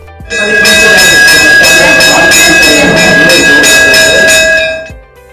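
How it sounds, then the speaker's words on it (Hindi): A loud electric school bell rings continuously for several seconds, a harsh metallic clatter that stops abruptly, then fades. "बज गई घंटी"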